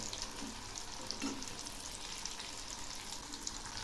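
Pumpkin pieces fry in a pan nearly done, a quiet continuous sizzle with a gentle even hiss and occasional faint pops, no voices.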